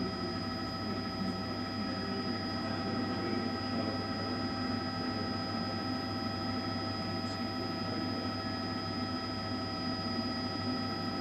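News helicopter hovering above a police search in St. Louis, a steady droning rotor and turbine hum with high whine tones, continuous and unchanging, heard from inside or close by, with no talk.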